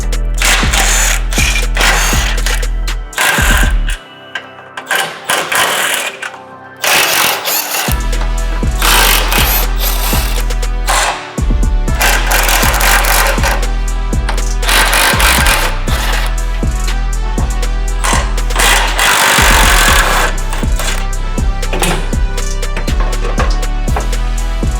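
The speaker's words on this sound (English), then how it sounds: "we're going to remove the factory crossbar by removing 8 17mm head bolts" Tools loosening and removing 17mm head bolts from the factory crossbar of a 4th gen Toyota Tacoma: loud, close ratcheting and mechanical whirring in long bursts, broken by brief pauses.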